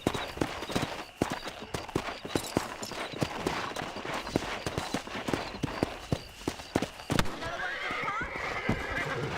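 A horse whinnies and its hooves clop and thud in a rapid, uneven rhythm in the western video game Red Dead Redemption, close and busy, with voices faintly in the mix.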